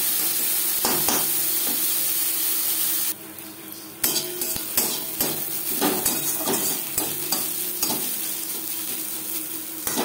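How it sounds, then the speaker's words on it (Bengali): Onions fry in hot oil with tempering spices for masoor dal, giving a constant sizzle. A spatula stirs and knocks against the pan in frequent scraping strokes. The sizzle briefly drops away, then resumes. "পেঁয়াজ লালচে করে ভেজে নেব।"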